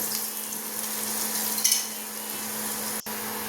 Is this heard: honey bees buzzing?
no